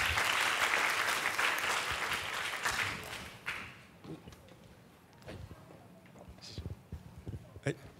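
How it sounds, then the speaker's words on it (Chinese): An audience at a civic tech summit award ceremony applauds to welcome a strategy chief to the stage, dense clapping that swells for about three seconds then thins to scattered claps and murmuring voices. "来，我们掌声欢迎策略长"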